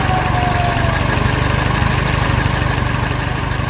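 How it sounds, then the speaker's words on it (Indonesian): A spinning saw on a yellow cartoon construction machine runs beside a red trailer, set to cut wood, giving a loud, steady mechanical drone with a low rumble that continues unbroken throughout. "Gergaji mulai berputar"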